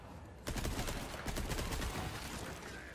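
Video game gunfire from Resident Evil 4 Remake erupts suddenly in rapid, overlapping bursts of shots, sustained and fairly loud for a couple of seconds.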